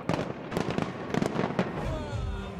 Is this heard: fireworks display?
yes